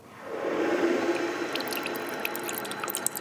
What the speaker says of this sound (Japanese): もうすぐにお湯が出てきます。